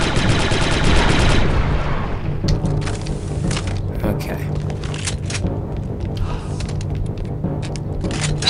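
Rapid gunfire at enemy turrets in the video game Star Wars Republic Commando: loud, dense automatic bursts at first, then thinner scattered shots and crackling impacts of a firefight.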